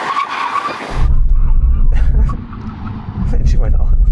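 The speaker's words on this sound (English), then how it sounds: "Right, brake test. When we hit the line, full emergency stop." A car skids hard under a full emergency stop during a brake test on a drag strip, the loud tyre noise erupting after about a second and continuing with a brief dip, while a voice talks over the start.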